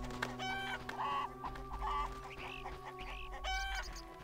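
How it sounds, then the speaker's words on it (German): Several chickens cluck repeatedly in The Witcher video game, in a steady farmyard chatter over a constant low background hum. "Sehr viele Hühner, anscheinend."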